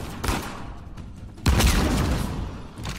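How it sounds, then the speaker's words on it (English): Shotgun fire in Uncharted 4, two heavy booming blasts with rumbling tails about a second apart, followed by another muffled shot at the end. "Oh, he had a shotgun."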